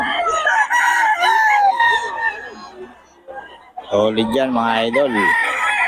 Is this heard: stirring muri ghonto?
no